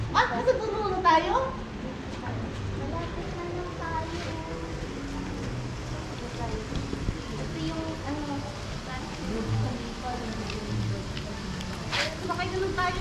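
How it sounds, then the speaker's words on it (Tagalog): Steady rain patters on a surface at a farm resort throughout, with people talking over it and occasional louder drips or knocks. "Kuhan lang yung ulan niya."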